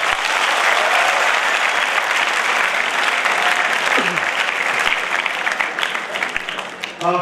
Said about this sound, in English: just give a huge round of applause to all the commerce commandos over here